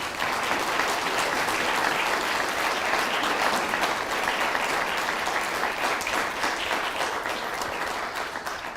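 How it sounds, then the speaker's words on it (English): A seated audience at a symposium panel gives a sustained, dense round of applause, loud and close, with no pauses, fading slightly toward the end. "could you all join me in giving them a big round of applause?"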